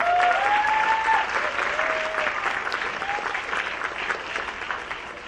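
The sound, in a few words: audience applause at school band presentation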